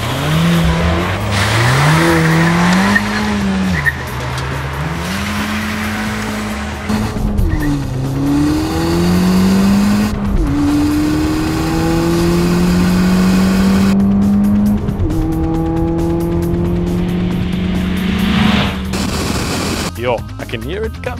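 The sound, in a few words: Ford Fiesta ST200 and Renault Clio RS 200 hillclimb racing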